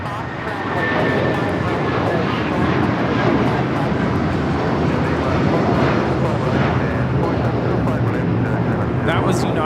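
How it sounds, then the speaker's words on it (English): A Boeing 757-300 airliner takes off at Los Angeles International Airport, its engines a loud, steady roar that swells after the first second and holds strong throughout, with a faint whine riding above the broadband rumble. "That was United 1069 taking off to Chicago on the 757-300"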